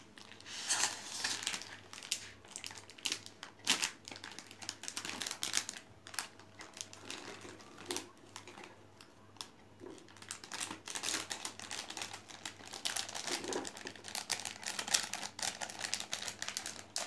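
A plastic packet of alphabet gummy candy is torn open and handled, giving busy crinkling and rustling with sharp tearing snaps throughout, close and fairly quiet, with no talking.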